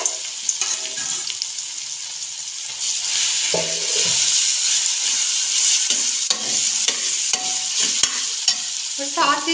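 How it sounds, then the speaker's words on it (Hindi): Carrots previously boiled in milk fry in a pan for an apple carrot halwa, stirred with repeated scraping strokes over a loud, continuous close-up sizzle. "इसको हम हल्का सा फ्राई करेंगे इसके अंदर।"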